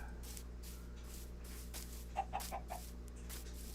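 Chickens cluck in Minecraft, a short run of four or five soft clucks near the middle over a constant low background hum.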